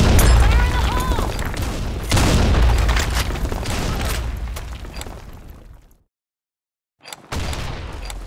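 Grenade blasts and rapid gunfire from the Blackshot online shooter game, loud booming explosions and crackling bursts filling the first six seconds, then a brief silence before more firing, with game voice callouts mixed in.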